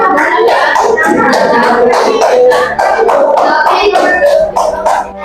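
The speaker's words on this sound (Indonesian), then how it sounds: "tepuk tangan kelompoknya ini yang mau membacakan hasil di sini" Classroom group clapping hands together in a steady, loud run of claps, close by, with children's voices mixed in throughout.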